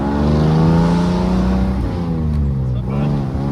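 A 1947 Plymouth Super Deluxe convertible hot rod engine drones loudly and steadily as it accelerates, its pitch rising and then dipping, with people talking over it.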